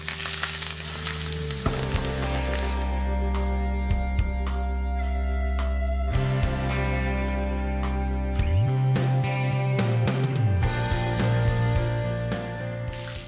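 Lamb with a garam masala crust searing in a frying pan, a loud continuous close sizzle with sharp crackling spatters throughout and steady humming underneath.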